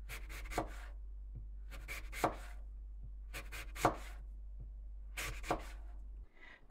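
A knife slices bright red apples into rounds about 5 millimetres thick in several bursts of crisp cutting and scraping strokes, close and quiet, against a low steady hum.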